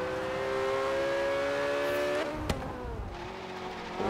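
A 1450 HP Porsche 918 Spyder races online in Forza Horizon 3, its engine holding a loud, high sustained tone before a gear shift drops the pitch, with a brief sharp impact partway through.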